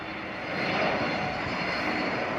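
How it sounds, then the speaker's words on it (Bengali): An IndiGo Airbus A321 passenger jet coming in to land at Dhaka airport gives a loud, steady engine roar that swells slightly and holds, broad and rushing, with no talk. "একটা ইন্ডিগো ফ্লাইট নামতেছে"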